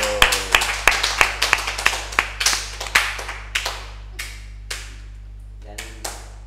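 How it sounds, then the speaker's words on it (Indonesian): A small group in a talk-show studio claps, crisp sharp hand claps starting quick and rhythmic, then thinning out into a few slower, scattered claps close to the microphone. "Tepuk tangan buat Bang Pablo."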